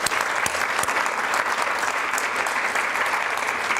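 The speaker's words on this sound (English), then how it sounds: "Give them a round of applause." An audience at a women-in-government panel event applauds, a dense, loud, sustained burst of clapping from a large crowd that continues evenly throughout.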